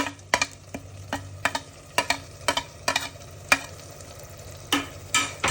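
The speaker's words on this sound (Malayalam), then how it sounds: "മസാലയും ഇറച്ചിയും നന്നായി മിക്സ് ചെയ്യും" A spoon stirs washed beef and masala together in a pan for a Kerala beef curry, producing sharp irregular scrapes and clacks over a soft frying sizzle, close and without talk.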